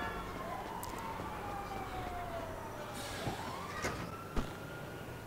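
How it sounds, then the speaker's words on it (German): Ambulance siren in the Grand Theft Auto V video game, a steady wailing tone sweeping up and down over a continuous bed of game traffic noise, with a few short clicks near the end. "Oh, Krankenwagen kommt auch schon."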